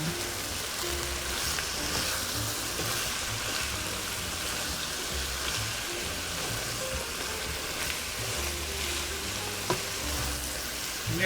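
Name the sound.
broccoli rabe with sausage sizzling and stirred in pan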